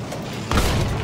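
A tank gun in the Battlefield 1 video game fires at a field cannon, a sudden heavy boom with a rumbling explosion that keeps going to the end.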